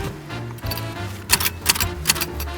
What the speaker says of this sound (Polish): Maszyna do pisania?